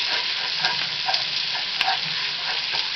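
Sausage fries alongside caramelized onions for jambalaya, a dense, even sizzle with faint stirring taps, close and continuous with no voices.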